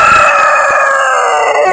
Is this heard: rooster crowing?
yes